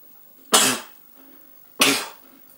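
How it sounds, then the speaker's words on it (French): Two sharp, loud sneezes about a second apart, each a bright burst fading quickly, close to the microphone, with quiet between them. "Excusez-moi, j'ai éternué."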